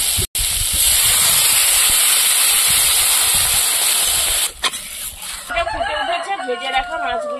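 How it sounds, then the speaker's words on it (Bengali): Water poured into a hot pan of fried spices while cooking fish curry with potato and greens, giving a loud, steady sizzling hiss that ends abruptly, followed by someone talking. "এবার জল দিয়ে দেবো"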